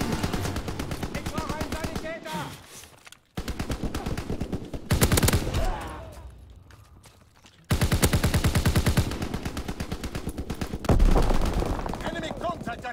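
Rapid automatic gunfire in the video game Call of Duty WW2, loud, fast machine-gun bursts broken by short pauses and sharp single blasts, with a voice heard now and then alongside the shooting.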